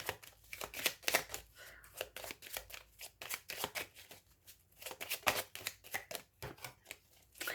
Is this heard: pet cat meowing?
no